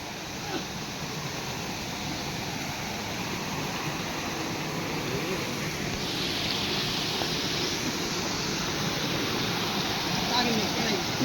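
Steady broadband rush of water pouring and gushing, continuous and fairly close, with no clear voices over it.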